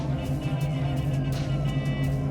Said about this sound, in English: Nice city traffic in the background.